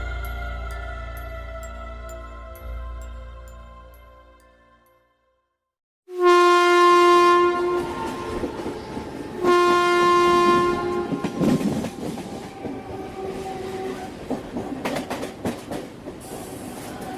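Train effect for a Bengali ghost story: a fading horn gives way to silence, then two loud, close horn blasts sound over rolling clickety-clack of wheels on rails, with rattling carriage noise.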